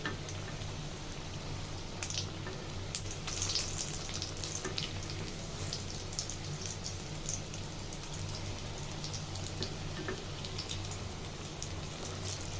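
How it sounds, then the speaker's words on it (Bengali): Chicken kebabs sizzle steadily in hot oil in a home kitchen, a constant crackling hiss with scattered pops as the pieces are turned, heard alone with no talking. "আর ভালো করে এক পাশ ভাজা হলে আর এক পাশ উল্টে দিতে হবে।"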